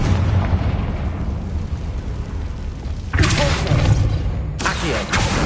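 Confringo fire spell explosions in the Hogwarts Legacy video game, a dense rumbling blast that sustains, then two bright crackling bursts of fire, loud and close.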